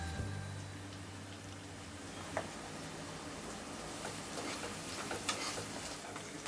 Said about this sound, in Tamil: நம்ம எடுத்து வைக்க பெரிய வெங்காயம் சின்ன வெங்காயம் 2த்தையுமே போட்டு வதக்கிட்டோம்.